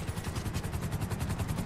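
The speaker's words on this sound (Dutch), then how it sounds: "Ja, er komen nu ook helikopters." Helicopters in the GTA Online video game, a continuous rhythmic rotor thump with dense clattering gunfire layered in, loud and busy throughout with no talk.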